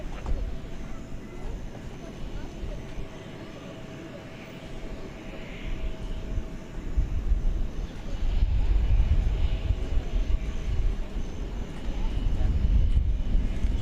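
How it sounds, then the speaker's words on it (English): An airliner departs DFW Airport at night on a flight to Barcelona, its engine rumble faint at first, then building into a louder, steady roar over the second half, with a faint voice in the background. "there goes the flight to Barcelona over to the east side"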